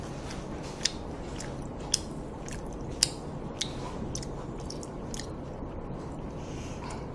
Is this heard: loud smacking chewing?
yes